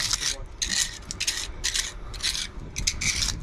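A sharp object rasps and scrapes repeatedly across a hard surface, a run of close, gritty strokes in a steady back-and-forth rhythm.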